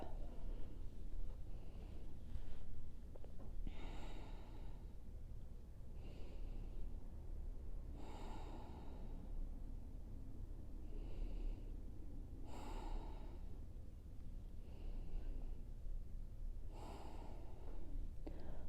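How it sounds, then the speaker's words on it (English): Slow, deep breathing in a quiet yoga session, a long audible inhale or exhale every four to five seconds, soft and close, with no talking between the breaths. "We're here for a few rounds of breath."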